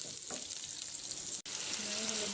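Vegetables (taro, bitter gourd and cucumber) fry in a pan with a steady, fairly quiet sizzle that runs throughout, broken by one brief dropout and a faint tone near the end.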